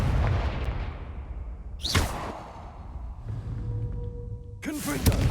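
A Confringo fire blast spell cast in Hogwarts Legacy, two sharp whooshing bursts a few seconds apart, each with a quick bright flare, over a low ambient game background.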